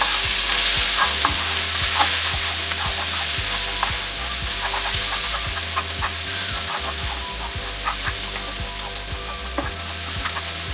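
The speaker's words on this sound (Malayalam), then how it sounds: "ഈ മസാല നമ്മൾ ഈ ഓയിലിലേക്ക് ചേർത്ത് കൊടുത്തു" Spice masala with ginger, garlic and ground fennel frying in oil in a pan for Mongolian-style kingfish fry, a steady loud sizzle with repeated scraping stirring strokes throughout, no voices.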